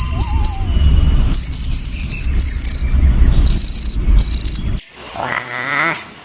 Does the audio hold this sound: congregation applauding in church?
no